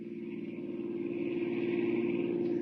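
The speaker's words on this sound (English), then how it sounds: "we find them in a small car, racing toward a distant airport" Small car engine hum in a vintage radio drama effect, a steady mid-pitched drone with a fluttering pulse that swells slightly louder as it runs, no voices over it.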